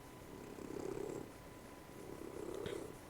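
A pet cat purrs close by in a quiet room, with two soft, rhythmic swells of rumbling purr.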